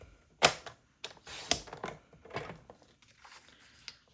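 Cardstock is sliced on a paper trimmer for a plaid card in a few sharp, close strokes, with two louder swipes among softer clicks and rustles and no talking.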